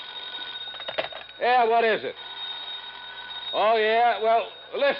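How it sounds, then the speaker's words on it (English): An old-style telephone bell rings in long trilling bursts in a radio drama, alternating with someone talking on another line. "pick that other phone off the hook"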